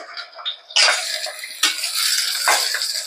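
A spoon stirs drumstick sambar in a cooking pot with scraping, clinking strokes and a faint sizzle, the louder swirls coming in bursts close by.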